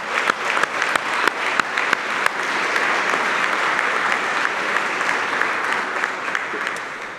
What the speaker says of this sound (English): let's give the parents and families a round of applause